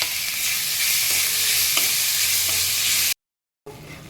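Grated pointed gourd frying in mustard oil with cumin seeds in a kadai, a loud, steady hissing sizzle with faint stirring taps, then a brief cut to silence before the sizzle returns.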